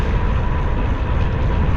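A freight train passes near Bridgeport, Nebraska, heard as a loud, steady low rumble and roar that fills the whole short stretch without any voices.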